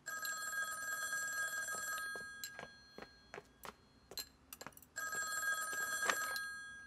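An old-style telephone bell rings in a household setting, sounding in long trilling bursts at the start and again near the end, with a series of sharp knocks and taps in between and no speech.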